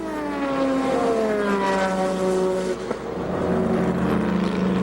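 A GT race car at the Spa circuit during a 24-hour endurance race roars past up close, its engine pitch sweeping down as it passes, then a brief dip before another engine note rises.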